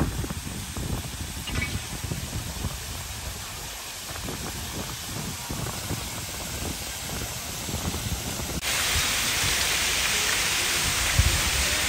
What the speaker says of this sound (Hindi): बढ़िया ही प्यारा लग रहा था ये पानी गिरता हुआ